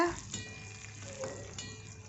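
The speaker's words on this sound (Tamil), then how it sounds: "இப்போ சேர்த்துட்டு நல்லா கிளறி விட்டுக்கிறேங்க." Chopped onions and green chillies fry in a pan for a village-style crab curry, giving a faint, steady sizzle with a few soft scrapes of stirring and no voices.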